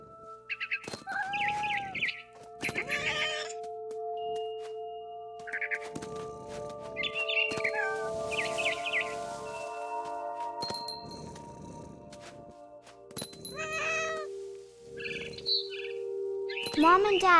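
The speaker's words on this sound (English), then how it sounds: "I heard chirping outside my window. It was a barn swallow going back to her nest." Scattered chirps of a barn swallow in What Remains of Edith Finch, short calls recurring between tonal music notes and soft game sounds, some louder near the end.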